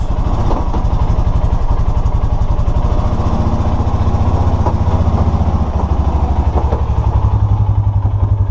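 A Polaris Sportsman 450 ATV engine runs steadily at close range with a loud, even putter, continuing without pause as the quad is shifted into reverse.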